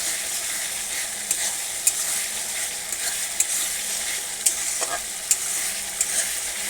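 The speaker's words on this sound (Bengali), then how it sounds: "মশলাটা ভালো করে কষিয়ে নিতে হবে।" Spice paste (masala) frying in a pan: a loud, steady sizzling hiss broken by regular light clicks and taps as it is stirred, with no talking.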